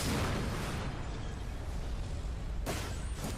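Small explosions burst from a building where a harness failed and tanks went unchecked, giving a dense, continuous rumble with a sharp burst near the end; no talk is heard.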